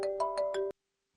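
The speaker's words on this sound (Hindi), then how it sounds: "फोन उठा लें, अम्मी कब से फोन कर रही हैं, परेशान हो रही होंगी" A mobile phone rings indoors with a short melodic ringtone of four quick rising chimes over a steady tone, then stops abruptly, followed by a faint soft knock.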